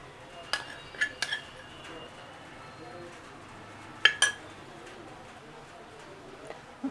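Turmeric being spooned into the middle bowl of a steel spice box, heard as a few sharp metallic clinks in two clusters over a quiet room, with faint background cooing.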